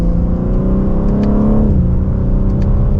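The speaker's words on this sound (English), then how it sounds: "We'll give it another acceleration." A 2024 BMW M3 Competition xDrive in its slowest, daily-driving shift setting accelerates steadily, its engine note rising loud and continuous with a smooth gear change partway through, heard from inside the cabin.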